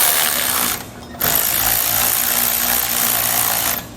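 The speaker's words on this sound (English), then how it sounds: "now we'll go ahead and tighten down our nuts" Power impact tool tightening nuts on a Demco trailer spare tire mount, loud close buzzing whirr in two long bursts with a brief pause between, ending abruptly.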